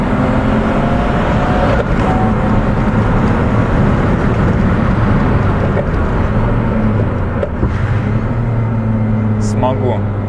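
A BMW E46 compact drives on a race track in Estonia, its engine a loud, steady drone with rising and falling tones close to the microphone, and faint voices inside the car.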